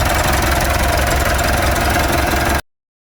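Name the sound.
Mitsubishi Pajero Sport diesel engine revving to redline after oil change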